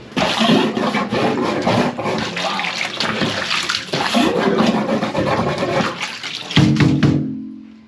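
A toilet in a badly fouled, previously clogged sewer setup flushes with a loud rushing gush of water that churns steadily, then drains away into a lower gurgle before fading out.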